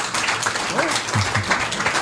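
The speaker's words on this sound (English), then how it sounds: "It's a nice polite applause for the guy drinking on 6 o'clock in the morning" Polite applause from a live show audience for a guy drinking a shot at 6 in the morning, a steady patter of many hands clapping close by, with a voice talking briefly over it.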